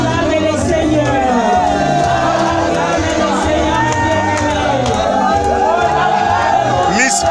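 At a church gathering in Lausanne, a large crowd cheers and shouts in praise of the Lord, a loud continuous roar of voices with rising and falling whoops.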